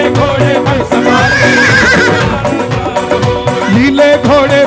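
A loud horse neigh sound effect rises and falls with whinnying vibrato inside a Hindi devotional Shyam bhajan, layered over dense music with steady instruments throughout.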